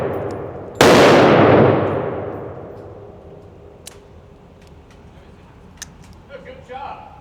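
A single sharp, loud shot from a Glock 25 Gen 3 pistol at an outdoor range rings out and decays slowly, followed by faint clicks and brief voices near the end.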